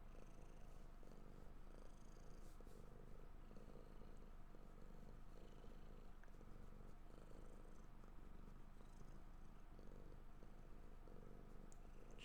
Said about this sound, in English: Can you guys hear her purring? She purrs really loud